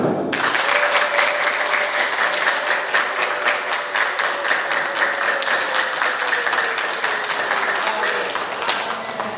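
A church congregation at a ministry tailoring-school graduation bursts into sustained, loud applause that fills the room, a dense wash of clapping that keeps going with little letup.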